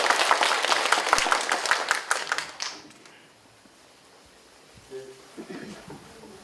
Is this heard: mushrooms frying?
no